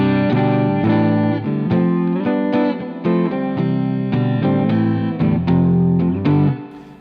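An Equinox Nephilim electric guitar strums a steady sequence of distorted chords, each ringing with a thick, sustained tone before the next change. The instrument plays alone, up close, without any voices.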